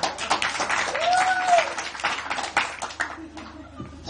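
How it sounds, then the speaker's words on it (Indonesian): Audience at an Indonesian stand-up comedy show claps after a performer, irregular close hand claps, moderately loud and thinning out, with voices and a brief whistle-like tone over them. "Tepuk tangan."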